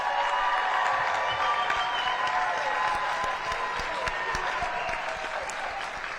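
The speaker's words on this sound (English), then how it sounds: "now is a good time to applaud and thank them for their work tonight" A mayoral debate audience at a Houston university venue applauds the candidates, with dense, continuous clapping that stays close and even throughout and eases off only slightly near the end.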